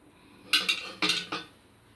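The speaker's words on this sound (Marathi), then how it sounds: "यात मी हे असं सँडविच ठेवते आणि हे असं व्यवस्थित बंद करून घेते।" A sandwich set into a stovetop gas toaster that is then shut, producing a few sharp metallic clacks and clinks in quick succession, close and fairly loud against a quiet background.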